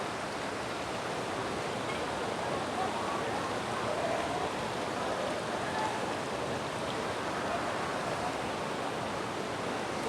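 The Ban Ganga river on the Katra route to Vaishno Devi rushes steadily, a continuous broadband hiss of flowing water without pause, moderately loud and close.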